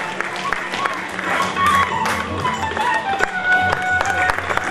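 Audience at a memorial-day felicitation ceremony claps steadily as a guest is welcomed, a dense, continuous wash of applause from a large crowd with some voices mixed in.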